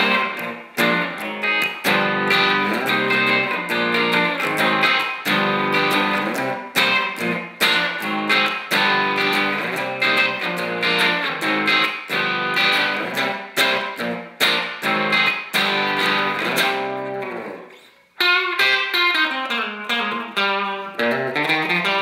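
Electric guitar through a crunchy 12AU7 tube amp, overdriven tone playing chords and riffs steadily, briefly cutting out near the end before resuming.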